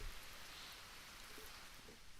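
Rain falling during a storm, a steady dense hiss of drops on surfaces that stays constant and fairly loud throughout with no speech.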